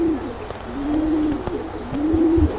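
A blue white-flight pigeon coos up close in soft, rolling, repeated phrases, each a low warbling note rising and falling, with faint handling noise beneath.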